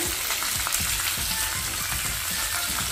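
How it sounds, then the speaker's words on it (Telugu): Grated ginger and grated carrot frying in a pan, a steady close sizzle with soft stirring scrapes running throughout, no voices. "కొద్దిగా పచ్చివాసన పోయేదాకా వేయించుకోవాలి."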